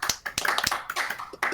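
A small group gives brief applause for a departing guest, a quick scattered burst of claps and taps lasting under two seconds, close and uneven.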